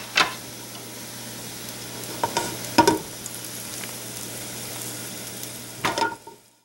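Onions caramelizing in a pan give a soft, steady sizzle close by, broken by a few louder scraping stirs and clatters spread across the stretch, with no one talking.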